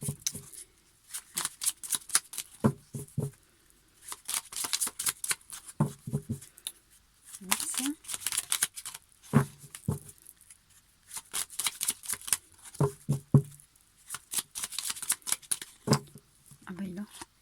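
Tarot cards are shuffled in repeated riffling, flicking bursts, closely miked, while someone speaks French intermittently around and over the card sounds.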